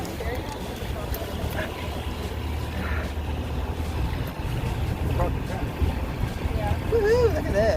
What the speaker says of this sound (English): We're in the ocean. in Plymouth, Mass. On Michael's boat